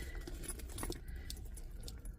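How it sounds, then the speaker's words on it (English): Keys jangle inside a purse, a faint, brief clinking over low background noise, with no voices present. "so I can stick my keys down in there"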